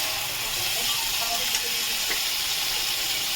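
Bhetki fish with mustard paste fries in a pan, giving a loud, steady hissing sizzle that carries unbroken from start to finish, with a few faint stirring knocks underneath.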